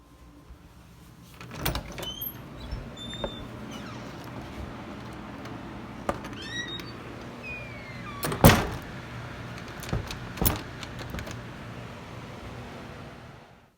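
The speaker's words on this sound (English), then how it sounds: "I'm going to show a quick video where I lock a door" A door being locked gives a few scattered clicks, clunks and metallic latch sounds against a quiet room, with one sharper knock in the middle and no speech.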